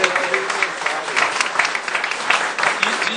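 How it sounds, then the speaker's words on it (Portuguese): A crowd in the Brazilian Senate applauds Senator Paulo Paim on his birthday, with loud, dense, continuous clapping close by and some voices mixed into it throughout. "ele merece também uma salva de palmas"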